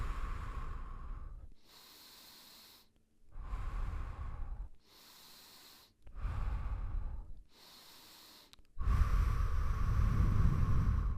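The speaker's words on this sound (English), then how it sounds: "exhale, inhale, small exhale, inhale, exhale, inhale" Slow, rhythmic breathing close to the mic: about six alternating inhales and exhales, each lasting a second or two with brief pauses between, the final exhale loudest, and no talking.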